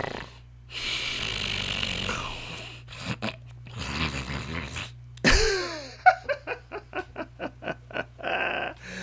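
A voice imitating snoring, drawn-out rasping inhales and snorts, then a rapid series of short rhythmic snorting puffs, close and fairly loud over a steady low hum.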